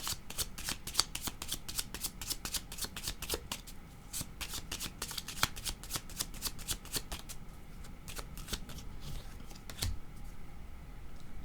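A deck of tarot cards is shuffled close up, giving rapid, crisp riffling flutters and soft taps in quick bursts that run almost without pause.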